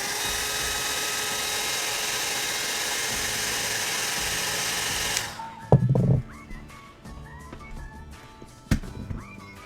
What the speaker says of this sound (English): I'm going to take my blow dryer and just zap this real quick.